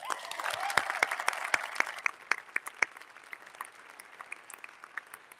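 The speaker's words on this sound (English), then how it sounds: "Let's give them one more round of applause." At an educators' awards ceremony, an audience applauds after a performance, starting as dense clapping and thinning to scattered, fainter claps as it winds down.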